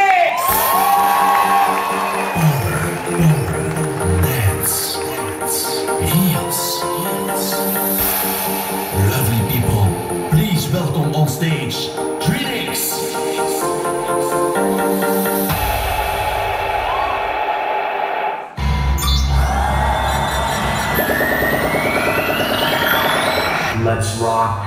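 Gala audience at the Mister Gay Belgium 2018 show cheering, whooping and shouting as a performer is introduced, with loud music playing and the crowd noise sustained throughout.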